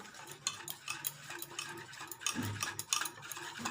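A spoon stirs cake batter after a little baking soda goes in, making soft, quiet, irregular scrapes and taps against the bowl, with a low thump partway through.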